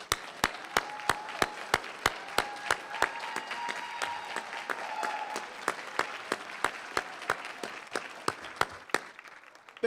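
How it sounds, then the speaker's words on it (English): An audience at an elementary school district awards ceremony gives a sustained round of applause for administrators and teachers, with dense clapping and a few sharp nearby claps standing out. "Parents, let's stand up and give these administrators and these teachers another round of applause."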